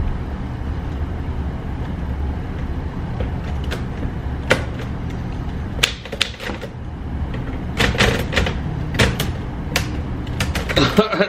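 An old typewriter with worn, damaged keys is tapped in short irregular bursts of sharp clacks over a rumbling background, with people talking around it.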